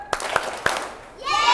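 Children clap their hands in a classroom, two or three sharp claps in quick succession, followed by children's voices.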